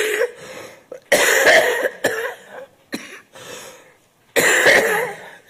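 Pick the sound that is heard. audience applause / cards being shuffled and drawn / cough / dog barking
cough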